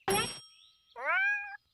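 Short cartoon cat sounds in two bursts, a harsh squawk followed by a brief tonal meow with a faint ringing tone between them.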